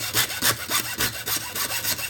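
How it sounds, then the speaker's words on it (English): A small hacksaw cuts through a stainless braided PTFE hose held in a vise, quick rhythmic back-and-forth rasping strokes, about eight in two seconds, close and alone. "I just use a little hacksaw"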